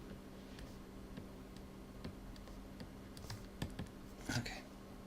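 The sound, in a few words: computer keyboard keys pressed, holding Alt and Control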